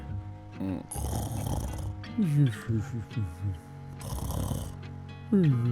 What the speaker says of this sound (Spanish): Roncar, roncar,